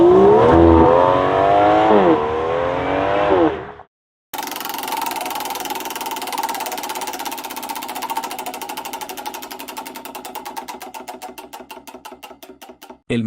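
A British V12 supercar engine revs sharply in rising and falling sweeps, cuts out briefly, then builds into a long, loud, accelerating drone of climbing pitch with rapid firing pulses.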